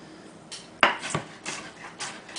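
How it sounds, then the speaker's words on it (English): Knife chopping onions and garlic on a board for ratatouille, a few irregular sharp chops close by with quieter knocks between, no talking. "Stuff like the onions and the garlic, I'll cut down a little bit smaller"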